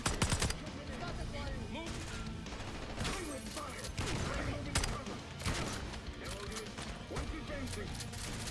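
Rapid automatic gunfire and shotgun blasts from the Call of Duty: Black Ops 6 campaign ring out almost continuously, with shouted commands from game characters over the shooting.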